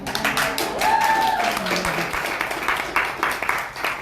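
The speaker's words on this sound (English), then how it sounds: "She always gets the bigger applause than me." Audience applause at a policy happy hour as a woman is introduced on stage, a dense wash of clapping with a brief tonal whine early on, fairly close and steady throughout.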